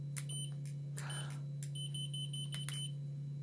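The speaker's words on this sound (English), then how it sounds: "Too bad the beeping can get a bit annoying." An AMES laser distance measure gives out a series of short, high beeps at uneven intervals over a steady low electrical hum, close and fairly quiet.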